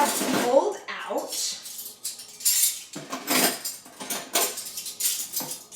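Silverware pulled from a kitchen drawer is shaken and dropped in repeated bright metallic clinks and clatters to simulate breaking glass, close and irregular, with a person speaking between bursts.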